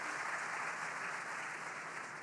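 Steady applause from a TV studio audience welcoming a panel, dense and even clapping that fills the whole stretch without a break.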